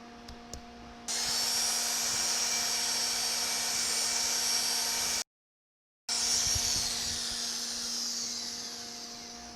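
Steady high-pitched whine of a power polisher running a dark green 1000 grit pad over a tile bullnose edge, starting after a second, continuous and fairly loud, with a brief cut partway through before it resumes.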